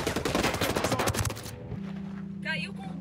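Rapid automatic gunfire from Ghost Recon Breakpoint rattles loud and dense for about a second and a half, then cuts off, leaving a low hum and a short electronic tone near the end.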